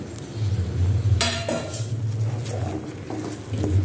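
Semolina for pineapple kesari is stirred in a pan, a spoon scraping and clinking against the metal in an irregular rhythm over a steady low kitchen hum.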